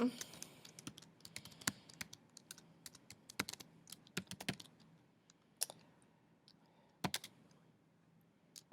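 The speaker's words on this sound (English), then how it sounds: "I'm just going to quickly type in a" Someone types on a computer keyboard in quiet bursts of sharp clicking keystrokes, fast runs broken by short pauses, fairly close and faint.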